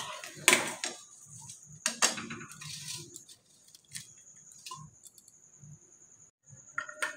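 Spoon clinking and scraping in a pot of sago pudding, scattered metallic knocks and taps in bursts with quiet pauses, close and fairly soft.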